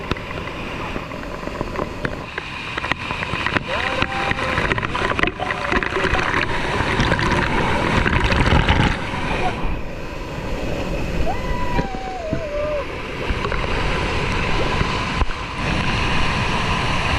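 A waterfall on a Konkan stream rushes with a steady, loud, broadband roar of splashing water, a few faint whistling tones flickering through.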